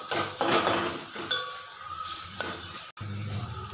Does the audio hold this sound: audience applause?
no